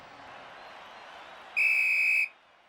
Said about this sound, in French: Et c'est le coup de sifflet final.